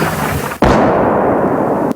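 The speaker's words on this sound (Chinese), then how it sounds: "远处爆炸声象征巴赫姆特近郊一天战况的开始" Artillery shelling near Bakhmut in Ukraine: after a quiet rumble, a sudden loud blast erupts into a sustained roaring burst lasting over a second before cutting off abruptly.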